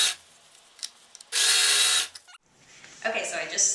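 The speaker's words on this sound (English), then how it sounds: "serge along the bottom at 5/8 of an inch again, sewing right over those folds that we just made" A serger stitches along the bottom seam of a fabric bag at 5/8 inch, running over folded pleats in a steady mechanical burst of about a second, with brief handling noises before and after.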